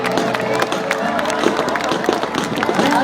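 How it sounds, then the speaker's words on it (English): Crowd applause and cheering at an army open house show, a dense steady wash of clapping from a large audience with scattered shouts, continuous throughout. "Would you once again give a big round of applause to our heroes?"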